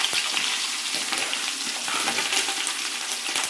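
Mustard seeds, cumin, garlic and curry leaves fry in hot oil, giving a dense, close sizzle peppered with sharp crackles and pops throughout, without speech.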